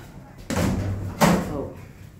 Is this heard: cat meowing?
no